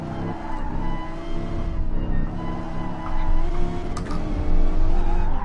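Race car spinning out during a GT Sport Gr.3 race at Dragon Trail: loud engine roar with rising and falling revs, tire scrub and skid noise, building near the end, no talk.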